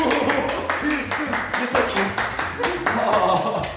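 Rapid group clapping at a head-shaving send-off for a new military recruit, steady broadband claps running for several seconds, loud and close, with voices talking over them.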